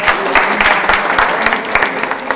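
A crowd applauds loudly and continuously at a prize-giving event, a dense steady patter of many hands clapping close by.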